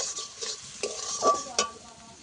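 Spice paste with turmeric, chili powder and a splash of water fried in a pan for a pangas fish curry, a soft sizzle under several distinct spatula scrapes and clinks, close and brief.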